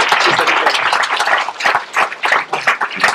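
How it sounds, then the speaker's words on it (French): Audience clapping at a meeting of an author group, a dense burst of many hands applauding together, close and lively, rising and falling over a few seconds. "On peut les applaudir."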